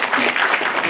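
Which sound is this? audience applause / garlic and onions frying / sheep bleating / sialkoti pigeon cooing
audience applause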